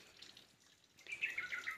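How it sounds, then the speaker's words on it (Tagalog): Water dripping and seeping from rock in a warm natural outdoor area, a faint soft trickle that grows a little louder and wetter partway through, with no voices. "Kunti na lang yung tumatagas na tubig."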